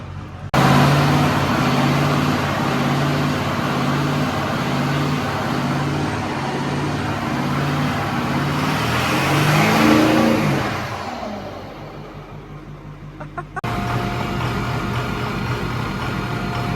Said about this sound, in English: It's not misfiring, it's just got a big old lopey cam in it.